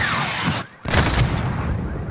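A dense burst of heavy gunfire and booming blasts in Call of Duty: Modern Warfare, briefly cut off before the loud barrage resumes and continues steadily.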